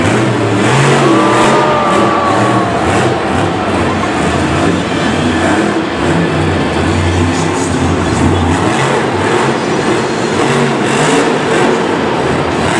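The Dragon monster truck's engine roars and revs loudly and continuously during its Monster Jam run in a Singapore stadium in 2017, with a steady wash of arena noise underneath.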